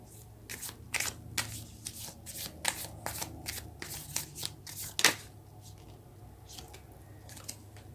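Tarot cards being shuffled up close, a series of quick riffling bursts and soft snaps, louder in the first five seconds and tapering into quieter handling.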